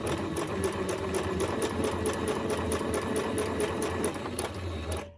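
A sewing machine stitches through paper in a steady, continuous mechanical whir with rapid needle ticks, close and even throughout, with no speech over it.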